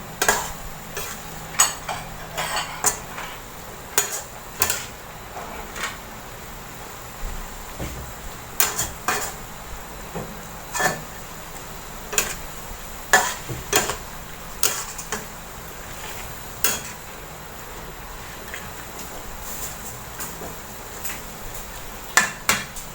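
Chicken giblets and chili peppers being stir-fried in a pan at home, with repeated sharp metallic clacks of a utensil against the pan and a soft sizzle running steadily underneath.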